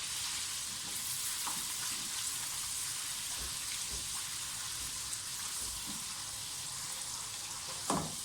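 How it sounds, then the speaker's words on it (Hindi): Garlic and ginger paste fry in oil for chicken karahi, sizzling and crackling steadily at close range, with a few soft stirring scrapes and a brief clatter near the end. "लहसुन को अदरक को थोड़ा सा भून लें"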